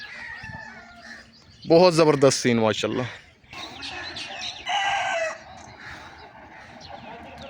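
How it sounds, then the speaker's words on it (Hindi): A rooster crows loudly in a village area beside ripening wheat fields, followed by fainter bird calls, with someone talking nearby. "हर तरफ जो है ये परिंदों के चहकने की आवाज़ें"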